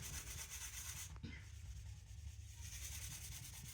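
Cleaner is rubbed into burnt-on stains on a glass cooktop, giving a faint, close scrubbing swish in rhythmic back-and-forth strokes with a brief pause midway.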